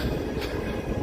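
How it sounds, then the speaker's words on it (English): A train at Walt Disney World, between Magic Kingdom and Epcot, gives a steady, close rumble of rolling railcars for about a second, with no talking. "let me see if I can get on this train real quick"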